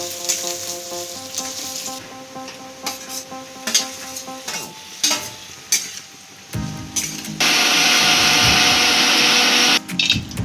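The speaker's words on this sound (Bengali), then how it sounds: "পাশের কড়াইতে আমি কাজু আর কিশমিশটা ভেজে নিলাম।" Cashews and raisins fry in a pan, with scattered clinks and stirring scrapes over music, then a loud steady sizzle toward the end.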